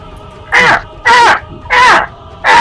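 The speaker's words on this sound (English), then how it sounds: "Scared bird noises." Frightened crow-like birds caw four times in a steady rhythm, each harsh call loud, close and about half a second long, with short quiet gaps between.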